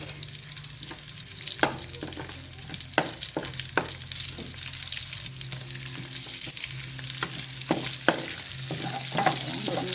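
Steady sizzling of garlic frying in a hot pan, with occasional sharp clinks of a utensil stirring, close and continuous.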